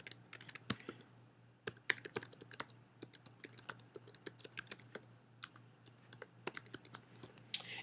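Someone types on a computer keyboard, sparse quiet clicks forming irregular short runs over a low steady hum, close by and with no speech.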